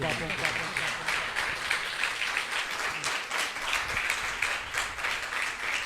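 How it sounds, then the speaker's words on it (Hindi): A church congregation claps in sustained, steady applause filling the room, with some voices mixed in underneath. "आए बेटे पहले तालियां बजाएं अपने बापों के लिए"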